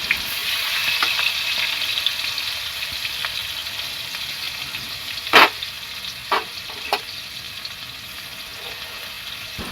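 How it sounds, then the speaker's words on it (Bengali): Chopped onions frying in a little oil, a steady soft sizzle at close range, with a few sharp clatters of a spoon against the pan partway through. "পেঁয়াজ কুচিটা হালকা তেলে ভেজে নেব।"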